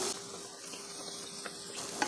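Steady sizzling of appam batter frying in hot oil, close and continuous, with a faint stir or clink near the end.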